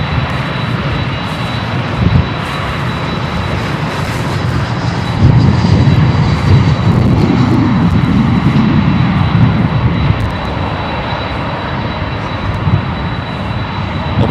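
Four-engine quad jet airliners roar at Chicago O'Hare in stormy weather, a steady loud engine rumble that swells midway and holds without a break.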